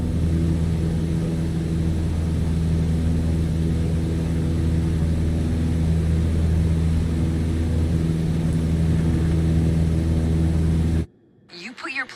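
A Cessna 152 engine at full power during a climb in Microsoft Flight Simulator gives a loud, steady droning roar that holds for about eleven seconds, then cuts off abruptly near the end.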